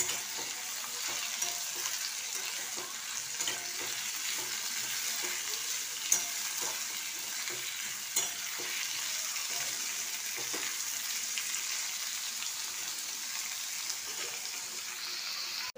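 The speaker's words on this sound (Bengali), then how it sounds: "ভাজা ভাজা হয়ে গেছে।" Ridge gourd fries in a pan over high heat, giving a steady moderate sizzle with light clicks and scraping of a spoon stirring throughout, with no talk.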